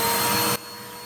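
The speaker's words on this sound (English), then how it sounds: "I'm just going to use my vacuum cleaner and suck them up" Household vacuum cleaner sucking up ants, a loud roaring whir that drops abruptly to a lower hum midway through.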